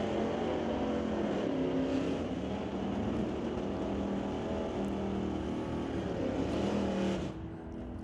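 A Fox Body and a Firebird roar down a drag strip at an NHRA race, engines droning loud and close with shifting pitch. The sound eases off slightly near the end.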